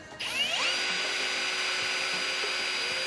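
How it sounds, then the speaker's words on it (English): A power drill bores into a makeshift vise, spinning up sharply and then whining at a steady, close and loud pitch for the rest of the stretch, with no voices. "How's your makeshift vise going, Troy? Get it drilling, mate."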